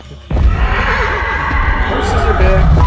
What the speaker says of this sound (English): Okay. Horses are back.